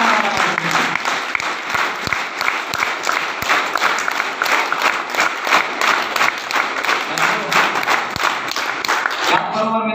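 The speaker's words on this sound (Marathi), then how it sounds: "मग वाजल्या पाहिजेत की नाही जोरदार टाळ्या?" Large audience at a motivational speech in India breaking into loud, sustained applause, a dense roar of clapping that stays strong for several seconds before cutting off abruptly.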